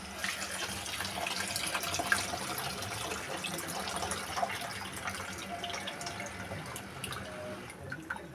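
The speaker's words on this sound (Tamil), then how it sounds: "வதங்கினோடனே புளி கரைசல் போட்டுங்க." Tamarind water pours steadily into a cooking pan close by, a continuous splashing trickle lasting several seconds.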